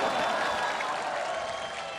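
A TV cooking-comedy studio audience claps for Kangana in a short, even burst of applause that stays fairly loud and fades slightly toward the end.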